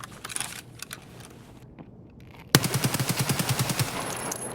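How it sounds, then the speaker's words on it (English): Automatic AK rifle gunfire in a factory setting, starting abruptly after a quieter stretch as a rapid, loud burst of regularly spaced shots lasting about two seconds. "get the AK out"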